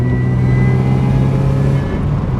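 Supercharged Mazda MX5 NA engine droning steadily while driving, a close, continuous mid-pitched hum with a faint whine on top, loud and even throughout with no talking.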